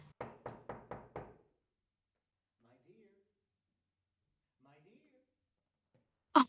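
Pounding on a door, a fast run of five loud, even knocks right at the start, followed by long near-silence with faint movement and a sharp bang at the end.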